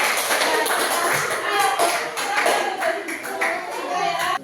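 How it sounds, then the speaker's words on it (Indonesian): Children in a classroom clap their hands in a lively, uneven burst, the claps close and bright over young voices chattering and calling out throughout. "Tepuk tangan"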